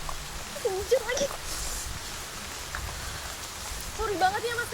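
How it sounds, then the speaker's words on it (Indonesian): Rain falls steadily on a surface nearby, a constant soft hiss with a few brief chirping sounds and some talk over it. "Hujan lagi."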